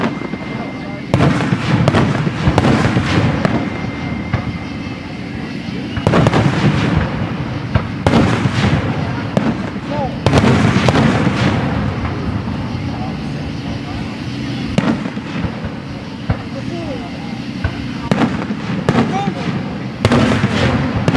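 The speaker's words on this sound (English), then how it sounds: "Fireworks" Big fireworks burst in a series of loud, booming explosions, each blast followed by crackling decay, spaced every few seconds, with people talking and reacting between the bangs.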